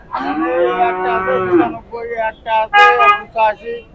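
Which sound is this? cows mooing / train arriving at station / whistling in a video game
cows mooing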